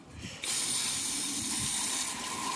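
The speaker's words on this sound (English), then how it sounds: "all we're gonna do is rinse it off with water" Water sprays steadily onto a rusty motorcycle chain at low pressure, starting with a soft hiss and settling into an even, fairly quiet rinse with no voices.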